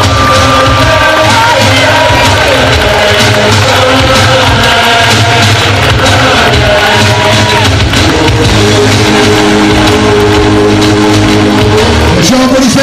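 A large crowd at a gathering in Dryanovo applauds and cheers a guest, a continuous loud wash of clapping and shouts, with a voice carrying over it.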